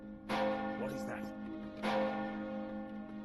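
Town bells ring out in The Lord of the Rings Online, two resonant bell strikes with long humming tails, sounding clear and close as an alarm over the town.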